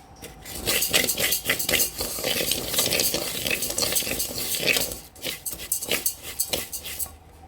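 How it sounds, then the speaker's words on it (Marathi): Wheat being roasted in a dry pan for Goan pinaac, with rhythmic scraping and rattling stir strokes against the pan, fairly close and steady, with a short pause before the stirring resumes. "आतां न्हू तें भाजयता दाखयता तुमकां"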